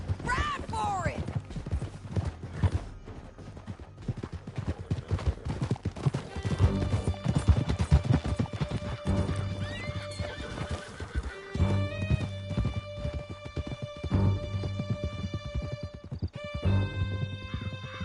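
Horses gallop through a canyon in Red Dead Redemption 2, steady hoofbeats thudding under loud neighs and whinnies, with a musical score swelling in the background.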